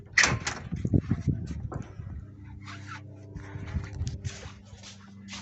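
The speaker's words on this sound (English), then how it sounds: "I'll open the door here." Door of a 1958 Apache pickup truck being opened, a sharp metallic latch click and clunk at the start followed by creaks and light rattling, close by and fairly quiet with no talk.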